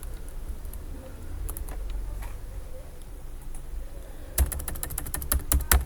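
Computer keyboard typing comes in two stretches: scattered, faint key taps first, then a quick run of crisp, closer keystrokes near the end, with a quiet background and no speech.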